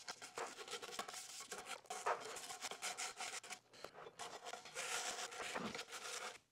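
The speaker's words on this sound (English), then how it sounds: "I can sit my saw blade up here on the edge and I can brush just like this straight into the actual bucket" A brush scrubbing buildup off a saw blade propped on a bucket edge, giving faint, close raspy scraping strokes in uneven bursts.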